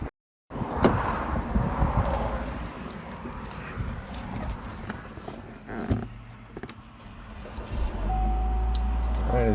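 A 2014 Cadillac ATS, checked for a rodent nest in its engine air filter, is started up nearby: a short crank and catch, then the engine settling into a steady idle hum near the end, with faint clicks and rustles before it.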